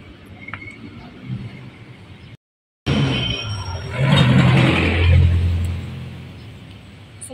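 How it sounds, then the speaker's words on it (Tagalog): Busy city road traffic in the Philippines, with cars passing and engines rumbling nearby in a steady loud wash. A brief dropout is followed by a louder swell of passing vehicles. "So maingay po dito kasi marami na pong sasakyan."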